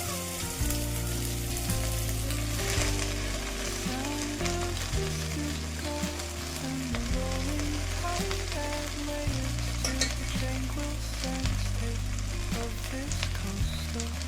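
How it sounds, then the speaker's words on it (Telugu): Washed and dried gongura leaves fry in a little hot oil, a dense, continuous crackling sizzle like heavy rain with occasional stirring, over a constant low background tone. "ఆయిల్ కాస్త వేడిందండి. ఇప్పుడు వాష్ చేసి పెట్టుకొని ఆరబెట్టుకున్న గోంగూరని వేసుకుందాము."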